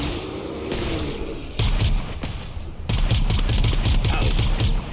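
Gunfire in the co-op shooter game GTFO: loud repeated shots burst in at about 1.6 seconds and again near 2.9 seconds, continuing as rapid thudding fire over low ambient tones.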